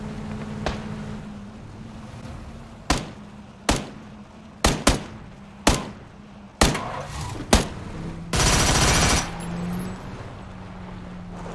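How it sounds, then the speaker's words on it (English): Gunfire in the battle game PUBG: a series of sharp, separate reports in an uneven rhythm, several close and loud, followed by a sustained burst of noise, over steady low engine-like rumble. "Okay, I can hear somebody shooting up here."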